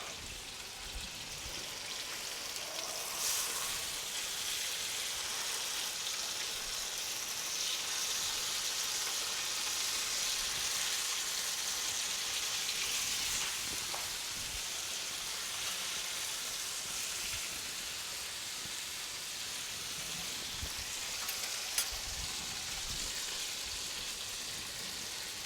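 Marlin fries in a covered pan with a steady, dense crackling sizzle that runs evenly throughout, faint and without speech, broken only by occasional small pops.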